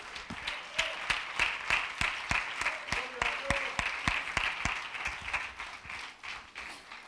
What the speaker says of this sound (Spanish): Puede brindarle un aplauso más hermoso a la gloria de Dios.